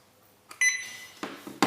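Alarm device sounding after being unplugged: a steady electronic beep tone for a moment, followed by several short clicks and bursts, close and fairly loud.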